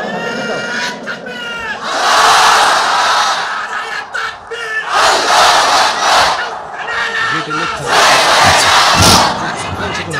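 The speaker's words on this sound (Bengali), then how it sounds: "সবাই একটা তাকবীর দেন, লিল্লাহি তাকবীর" A large crowd at a religious sermon shouts takbir, Allahu Akbar, in loud bursts of massed voices that rise and fall across the clip.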